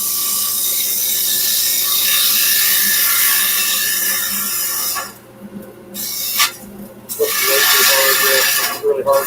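A woodturning gouge cuts hard maple face grain on a lathe, giving a steady, loud scraping and rasping hiss with brief pauses and resumptions partway through, while a person talks over it.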